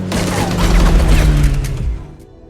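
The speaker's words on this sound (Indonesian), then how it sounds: "tiba-tiba ada 2 orang promotor yang menyerang Jackson beserta istri dengan tembakan" Gunfire rings out in an action film scene where two attackers shoot at a man and his wife: a loud, dense crackling burst with low booms that fades into quieter rumble near the end.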